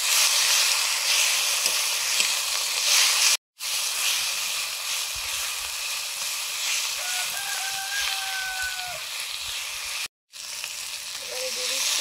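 Ginger paste sizzling in hot oil as it fries, a loud bright steady crackle and hiss broken by two brief gaps, with faint tones in the background.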